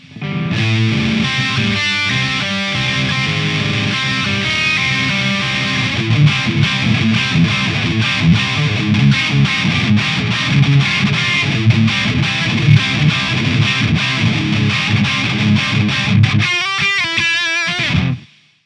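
A loud distorted electric guitar riff through a Laney Ironheart Foundry Loud pedal amp plays continuously with thick, saturated tone, ending in a few sharp choppy chords before cutting out.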